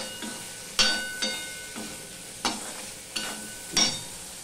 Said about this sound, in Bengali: দেখো কাঁচকলা আলুটা কিছুটা ভাজা হয়ে গেছে।